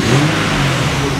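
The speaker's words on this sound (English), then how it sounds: "Engine sounds great now. It's running really smooth," A 2010 Infiniti G37S engine, just repaired after running rough with a lean condition, runs loud and close with a smooth, steady drone through the brief moment.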